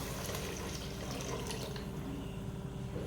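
Coconut milk mixed with water is poured into a cooking pot in a home kitchen, giving a steady, close splashing and trickling of liquid that runs without a break for about three seconds, with no talking.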